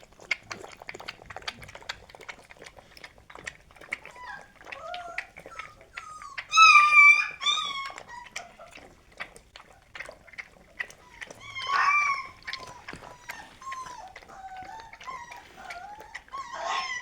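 A young male puppy whines and howls in repeated high, wavering cries, some louder bursts standing out, with faint talk in the background.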